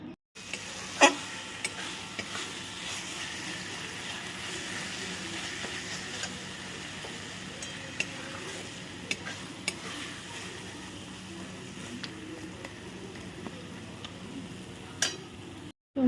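Masala spices stir-fried in oil in a pan, cooked slowly until the oil separates at the edges: a steady low sizzle runs throughout, with occasional light clicks and scrapes of a spoon against the pan.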